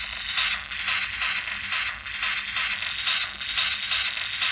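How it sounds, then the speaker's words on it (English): Harsh, gritty digital distortion from a bit crusher effect reducing bit depth on a small homemade tracker's mono speaker, pulsing in rough repeating bursts with no talk. "As you reduce the bits, this is going to get really distorted."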